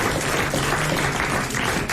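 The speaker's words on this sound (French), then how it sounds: "Et vous l'applaudissez comme elle le mérite." A radio studio audience on the French comedy show Les Grosses Têtes applauds a winning contestant, a steady wash of clapping that runs at even loudness for about two seconds with no voices.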